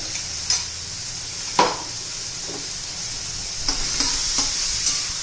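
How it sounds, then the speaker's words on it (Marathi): Crushed green chili paste sizzles and fries in a hot pan for sprouted green moong usal, with a steady hiss and a few sharp scraping stirs, close up and without speech. "तिचा पण कच्चेपणा दूर झाला पाहिजे तोपर्यंत आपण परतून घेणार आहोत"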